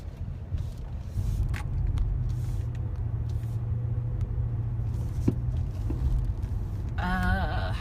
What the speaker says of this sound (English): As you probably can tell, I am in my car